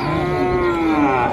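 A single cow or bull lets out a loud, close, sustained moo at a busy livestock market ahead of the Qurbani sacrifice, heard on its own without talk.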